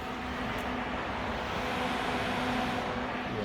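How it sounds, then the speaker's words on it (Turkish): A steady, even whirring drone of a car radiator cooling fan running continuously, broadband and constant with a faint low hum underneath. "Arkadaşlar ben sesi duyuyorum. Şu an fan dönüyor."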